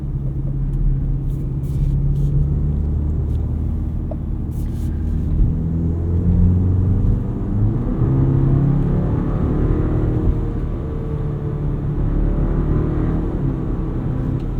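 A 2025 BMW X3 30 xDrive drives in sport mode, heard from the cabin as a steady low engine rumble under road noise. The pitch swells and eases gently as it accelerates through the run.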